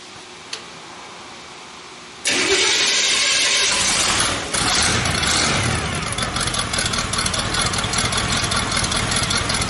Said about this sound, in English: Fire this thing up. Watch the temp.